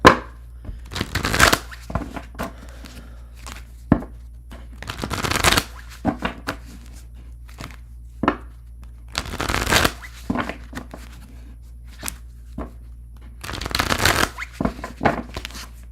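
Tarot cards being shuffled in repeated bursts of crisp riffling and flicking, several separate rounds with quiet gaps between, close and clear with no talking.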